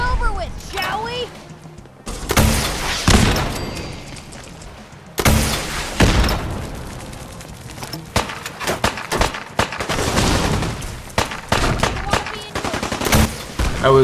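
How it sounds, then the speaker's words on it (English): Rapid gunfire bursts at the Mirelurk Queen inside the castle wall in the video game Fallout 4, loud repeated volleys and booms with a few short pauses, under occasional talk. "So here I am, inside the castle wall, shooting at the Mirelurk Queen."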